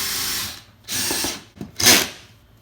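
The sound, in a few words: 3/8 inch socket ratchet driving self-tapping standoff bolt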